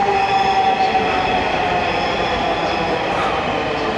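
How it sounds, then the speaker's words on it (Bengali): A Dhaka metro rail train runs toward Motijheel with a steady, loud rumble and rail hum that holds for the whole stretch, with no voices. "মতিঝিলের ট্রেন।"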